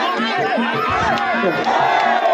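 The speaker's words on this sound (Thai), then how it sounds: "เสียงเชียร์มาแล้วครับ" A packed crowd at a Thai boxing match roars and shouts continuously, loud and close, with many overlapping voices cheering.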